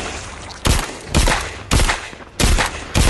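Gunfire in The Walking Dead: Saints & Sinners VR game, five loud, sharp shots spaced about half a second apart, each with a short decaying tail, close and dominant over faint background ambience.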